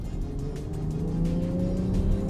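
A Land Rover Defender 130 with a diesel engine accelerating hard, a loud, close engine drone rising steadily in pitch over a couple of seconds, with no talking.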